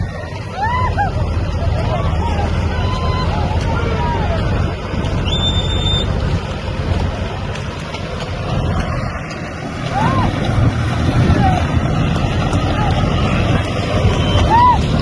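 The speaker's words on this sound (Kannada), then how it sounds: "ಈ ನೋಡಿ ಸೋನಾಲಿಕಾ ರೋಟಾವೇಟ್ರು ಸ್ಪೀಡ್ ಎಷ್ಟು ಒಳ್ಳೆ ತರ ಕೊಚ್ತಾ ಇದೆ." A Sonalika 45 HP tractor with a rotavator tills soil during a tractor competition, its steady engine drone and churning running continuously and loud throughout, mixed with outdoor wind and crowd babble.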